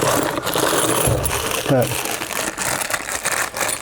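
Metal keys rummaged in a box, a near jingling and clinking with a sharper rattle about halfway, under ongoing talk from a man.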